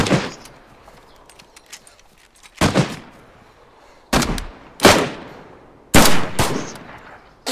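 Sharp, loud video game gunshots crack out about six times at irregular intervals, each with a brief echoing tail over a quiet background.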